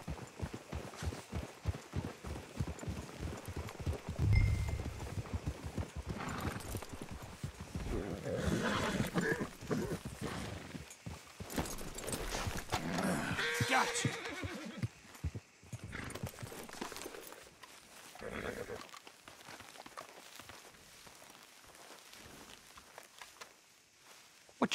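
Horses in the Red Dead Redemption 2 video game clip-clop steadily with hooves on the ground, punctuated by an occasional neigh, while characters talk over the moderately quiet hoofbeats.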